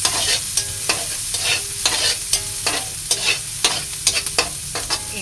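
Onions sauté in a pan for ginisang sayote while a spoon stirs them in a steady rhythm of repeated scraping strokes over a constant sizzle, close and clear, with no voices.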